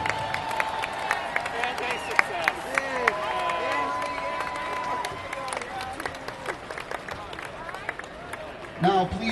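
A large stadium crowd applauds the more than 1,300 musicians on the field at Northwestern's annual Band Day. The clapping is broad and continuous, with a sustained brass tone and scattered cheers rising through it.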